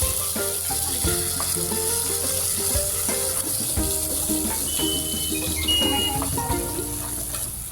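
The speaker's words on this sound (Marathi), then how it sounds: "प्युरी टाकली आणि त्या थोडंसं हलवून घ्यायचं, हलवत राहायचं." Tomato puree fries and gets stirred in a pan while cooking shewga (drumstick) bhaji, a steady close sizzle with scraping stir sounds throughout and no voices.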